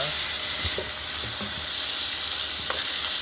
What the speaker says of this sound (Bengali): মাছটাকে ভেজে নেওয়া হচ্ছে